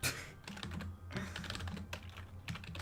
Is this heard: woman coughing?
no